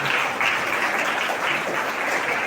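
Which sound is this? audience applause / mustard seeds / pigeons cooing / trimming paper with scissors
audience applause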